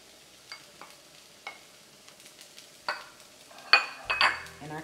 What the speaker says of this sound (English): Just get these sauteed off.